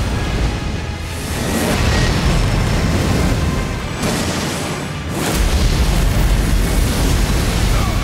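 A loud explosion erupts in the video game Elden Ring: Shadow of the Erdtree during a boss fight, heavy roaring blasts that swell, briefly dip, then surge again with sustained rumble.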